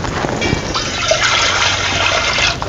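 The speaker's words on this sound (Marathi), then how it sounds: "आता आपण चुलीवरती ना पातेलं ठेवूया आणि यामध्ये ना एक तांब्याभर आपण पाणी घालूया" About a jugful of water poured into a pot set on a village wood-fired stove, a brief continuous gushing splash of liquid, close and fairly loud.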